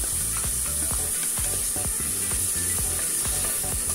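Onion and tomato sautéing in a pan with coriander and peppers, a steady loud sizzle running throughout with a few clinks of a stirring utensil.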